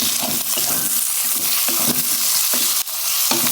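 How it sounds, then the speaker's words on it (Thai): Chicken stir-fried with slices of lime, the Thai dish of dry-fried lime chicken, sizzles loudly and steadily in a pan while a utensil scrapes and clacks in frequent strokes close by, with no talking. "มะนาวเป็นแว่นนะเอาไปผัดด้วยนะครับ"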